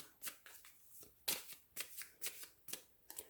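Tarot cards are shuffled in a quiet room, with a series of crisp riffling bursts and soft slaps at an uneven rhythm, close and fairly faint.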